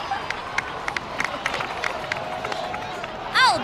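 A video game crowd cheers and claps in a busy, continuous murmur of applause and voices, followed by a short bright chiming sound at the end.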